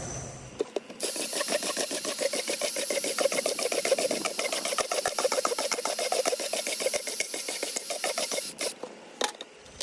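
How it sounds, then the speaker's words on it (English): A power drill grinds steadily through a plastic bucket for several seconds, a harsh, rasping, continuous whir with a rapid chattering texture, close and loud. "But let me go ahead and drill all these holes."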